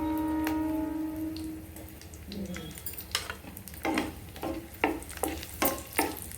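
Garlic is added to hot oil in a kadai pan and starts frying. It gives a soft sizzle with light ticks and stirring clatters that grow busier toward the end, and no one speaks.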